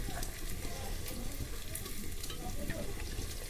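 Onions cooking in oil in a clay pot for an Andhra fish curry, a continuous soft frying hiss and bubbling close by, fairly quiet and even without any talk.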